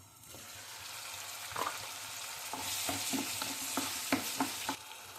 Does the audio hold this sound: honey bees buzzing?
no